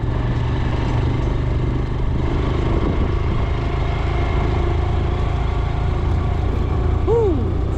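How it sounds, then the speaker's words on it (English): A truck and other traffic passing on a rough village road, a continuous loud engine rumble and clatter close by, with a brief rising horn-like tone near the end. "Woo, that truck right there."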